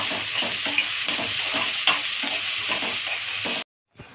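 Onions sizzle loudly in a pan while a spoon stirs them in short scraping strokes, the frying steady and close before it suddenly stops near the end.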